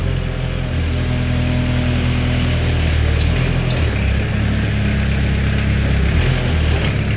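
A 2014 Moffett M55 truck-mounted forklift runs steadily while its mast moves in and out, giving a continuous mid-pitched engine drone with slight hydraulic shifts in tone, alone without talk.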